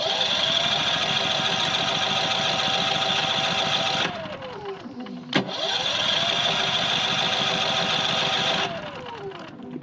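A Firman WH03242 generator running on propane starts and runs with a steady mid-pitched engine drone, cutting out briefly and catching again with a sharp click before settling back into a loud, continuous hum.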